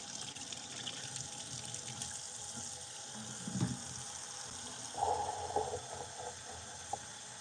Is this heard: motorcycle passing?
no